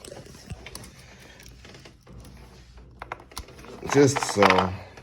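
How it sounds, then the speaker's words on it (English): A ratchet loosens the oil drain plug on a 10th-generation Honda Civic during a 30k service, giving quick light clicks at close range, with louder voiced bursts near the end. "basically undo the plug like so with your ratchet"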